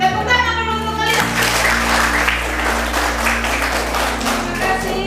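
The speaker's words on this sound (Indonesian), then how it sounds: "Tepuk tangan dulu untuk kalian." Class representatives at a junior high school in Sumba are applauded by students, a steady wash of clapping that starts just after a sustained low hum and continues loudly to the end, with faint voices mixed in.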